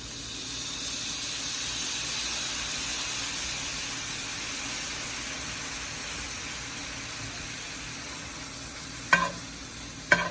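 Asparagus sizzling in a pan with butter and lemon juice, a steady even frying hiss that stays level throughout, with two sharp clinks near the end.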